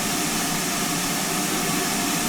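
A GWR Manor class steam locomotive, number 7800, in a train simulator game gives a loud, unbroken roaring hiss that holds steady and close throughout.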